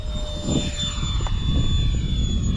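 Steady high-pitched jet whine from twin 70 mm ducted fan engines on an FMS A-10 model jet, with a smooth, constant tone over a low rumbling roar, close by and continuous.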